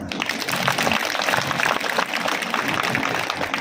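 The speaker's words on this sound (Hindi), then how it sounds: "ताली बजाइए तो कस के" Dense, steady clapping from a crowd at a gospel festival, a continuous crackling wash of many hands that stays loud for the whole stretch.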